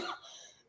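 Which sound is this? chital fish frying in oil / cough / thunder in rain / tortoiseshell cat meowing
cough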